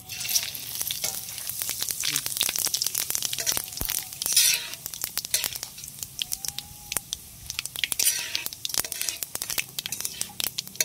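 Whole cumin, dried chilli and bay leaf crackle in hot oil in a pan, giving dense, close sizzling with sharp pops and spatters that swell and ease, alongside occasional scraping of a stirring utensil.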